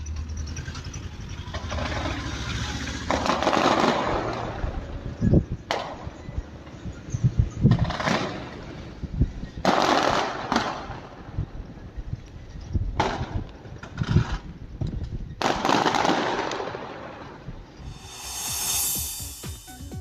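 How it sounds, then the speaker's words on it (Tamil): Firecrackers burst at sea at midnight in irregular clusters of sharp crackling pops against a steady outdoor rumble, some volleys loud and near, others thinner. "தொழிலாளர்கள் நள்ளிரவில் கடலில் வெடிவெடித்து மகிழ்ச்சியை வெளிப்படுத்தினர்"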